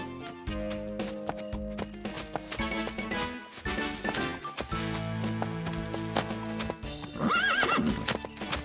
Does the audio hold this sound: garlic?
no